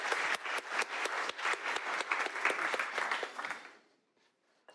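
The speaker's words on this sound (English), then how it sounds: "So we clap also" A crowd at a cooking event gives a round of clapping, many hands at a steady, dense patter for about four seconds before it quickly dies away to near silence.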